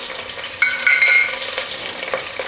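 Onions with curry leaves and green chillies sizzling and frying in a pan while being stirred for goat intestine gravy, a steady close sizzle with brief scraping stir strokes and no talk.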